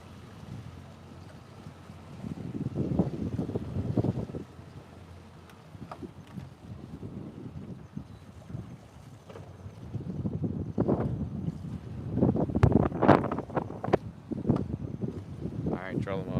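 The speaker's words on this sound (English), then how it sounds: "Every once in a while, that wind picks up." Wind gusting over a fishing boat on the water while flounder fishing in North Carolina: low, rumbling buffets that rise and fall in repeated surges, with scattered knocks and faint voices in the background.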